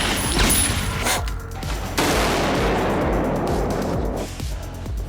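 Gunfire on the set of a Resident Evil film scene, with several sharp shots and bursts over a loud continuous rumble, close and forceful throughout.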